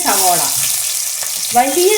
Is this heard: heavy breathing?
no